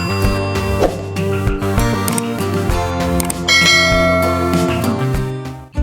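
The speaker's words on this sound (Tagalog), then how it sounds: "Teacher's Bell." A teacher's bell rings out loud and resonant, a run of overlapping struck bell tones with long sustaining overtones that fill several seconds before cutting off abruptly.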